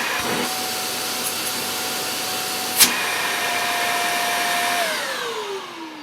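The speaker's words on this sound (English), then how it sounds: "So that's the Hoover Xarion Allergy Care Plus bagless vacuum cleaner." A Hoover Xarion Allergy Care Plus bagless cylinder vacuum cleaner runs with a loud, steady motor whine, broken by one brief sharp click, before the pitch drops away as it begins winding down near the end.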